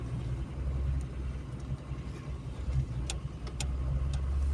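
A Toyota HJ61 driving on a snowy road near Murree, Pakistan, its engine a steady mid-level rumble from inside the vehicle, with a few faint clicks and ticks over it and no speech.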